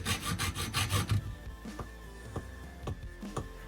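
A short length of 1/2-inch water pipe is cut to make an insert for a SharkBite fitting: a quick run of close rasping strokes, then a few light, scattered knocks.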